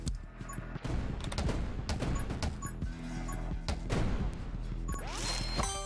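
Grenade blasts go off rapidly in 20 Minutes Till Dawn as dense overlapping crashes and bangs, with sharp hits arriving in quick bursts over continuous game music.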